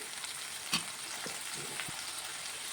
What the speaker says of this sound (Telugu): ఆయిల్ వేసింది, పచ్చిమిర్చి కూడా వేసుకుంటున్నానండి. కొంచెం ఫ్రై అవ్వాలి.